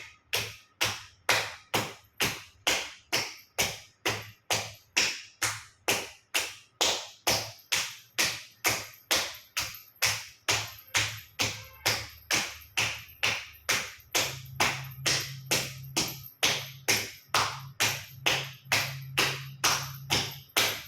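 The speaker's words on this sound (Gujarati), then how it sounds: "બંને સાઈડ પગના તળિયા ઉપર જોરથી ઝાપટ 50 વખત જોરથી તાળી આપીશું" Loud, sharp slaps of hands striking the soles of both feet during a yoga routine, repeated at a steady brisk rhythm, roughly two per second, throughout, with a low hum underneath in the later part.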